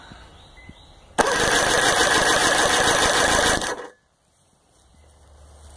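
A 1998 Johnson 115hp two-stroke outboard is cranked over by its starter for nearly three seconds, a loud, steady whirring drone that starts abruptly and winds down into quiet, without firing. No one speaks.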